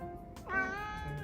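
A Javanese cat lets out one short, bending meow that sounds almost like a spoken word, close but soft, with no voices over it.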